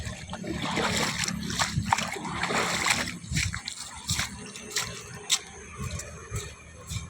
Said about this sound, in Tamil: தண்ணி வருது தெரியுதுங்களா?